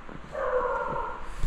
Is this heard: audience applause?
no